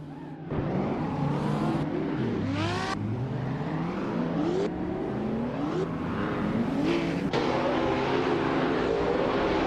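Several race cars in a racing video game overtake one another, engines revving with rising and falling pitch sweeps as they pass, loud and continuous with no talk.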